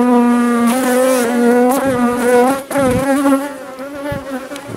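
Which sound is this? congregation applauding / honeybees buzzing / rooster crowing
honeybees buzzing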